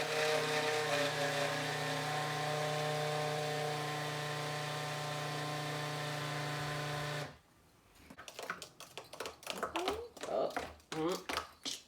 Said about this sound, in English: I probably shouldn't talk while I'm blending.